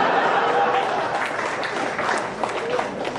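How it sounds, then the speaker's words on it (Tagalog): Audience applause at a tribute speech for Chief Justice Artemio V. Panganiban, a steady wash of clapping filling the whole moment, with some laughter and chatter mixed in. "Mukhang mas malakas ang palakpak sa UP kaysa FEU din Bautista"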